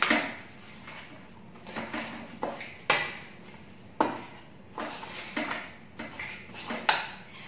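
A utensil scrapes and clinks against a pan as peanuts are mixed into food with the gas turned off, giving irregular metallic knocks and scrapes about once a second at close range, with no talk.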